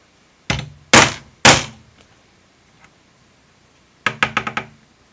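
A homemade brass gas check is struck into a forming die: three heavy, close thuds, a lone faint tap, then a quick cluster of five sharper knocks.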